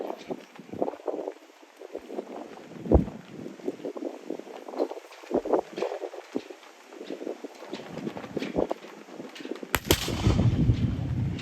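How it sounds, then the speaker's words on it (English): A Civil War era percussion cap rifle firing a Minié ball outdoors, several sharp reports with a slight pop-then-bang delay, loud against wind noise, with a heavier blast near the end. "the pop and the bang as the percussion cap ignites the propelling charge"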